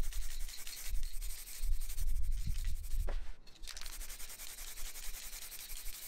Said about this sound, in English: I did some hand sanding at 400 grit just to denib and keep everything smooth